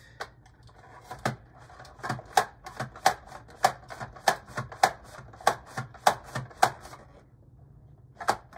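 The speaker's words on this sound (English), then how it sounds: "I have a mandolin slicer here that I'm gonna use." Potatoes are cut into quarter-inch slices on a mandoline slicer, a series of about fifteen sharp, crisp strokes in a steady rhythm, close and clear, with no speech.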